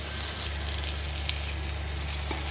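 Raw banana pieces frying in a pan, salted and stirred: a continuous close sizzle with light scraping from the stirring, and no voices.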